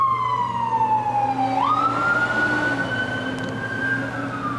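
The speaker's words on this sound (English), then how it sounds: "there's a siren outside" An emergency siren passes outside, its wailing tone sweeping down and then back up over a steady low traffic hum, fairly loud and continuous with no talk.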